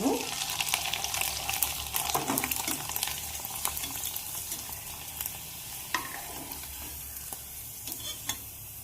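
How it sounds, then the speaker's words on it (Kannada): Disco papdi dropped into hot oil and frying, a loud bubbling sizzle that starts strong and settles, with scattered spatula clicks and stirring noises over the crackle. "ಎಣ್ಣೆ ಕಾದೈತಿ. ಈಗ ಇವು ಪಾಪಡಿ ಹಾಕೋಣ"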